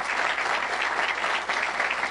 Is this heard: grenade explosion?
no